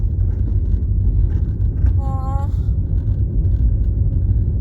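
A car rolls along the road with a steady, loud low rumble of engine and tyres, while a voice talks over the drive and a short tonal whine briefly rises midway.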